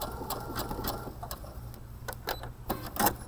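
Sewing machine stitching a blind hem, a fast steady run of mechanical clicks and whirring that is fairly quiet and close, with a few louder stitch knocks near the end and no talking.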